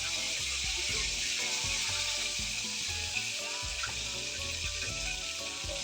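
Food sizzles and fries steadily in a pan, a dense continuous hiss with faint bubbling and occasional soft utensil clinks, close and alone without voices.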